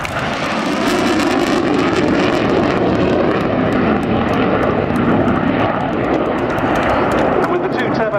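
Loud, continuous roar of a Tornado GR4 jet at the RAF Cosford Air Show, its twin Turbo-Union RB199 turbofans in afterburner, a broad rumbling wash sustained throughout with wind buffeting the microphone.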